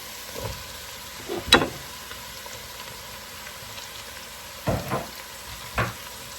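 Squash and portobello mushrooms drop into a pot of sweet potato soup, giving a faint steady sizzle with a few soft thuds and scrapes spaced across it.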